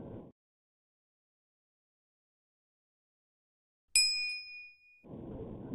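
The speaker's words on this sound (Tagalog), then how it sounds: "pindutin ang notification bell." A notification bell dings once, a bright metallic ring that rings out and fades within about a second, set between stretches of silence and a low background murmur.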